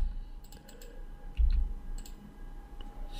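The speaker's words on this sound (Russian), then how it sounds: "Я равняю стрелочками на клавиатуре." Soft, scattered key clicks tap irregularly at close range over a low steady hum, with a brief dull thump near the middle.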